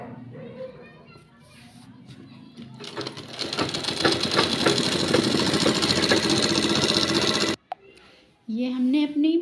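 A sewing machine runs in one steady, loud burst of stitching along a folded two-inch hem on a trouser leg, then stops abruptly, followed by a brief pause and a voice speaking.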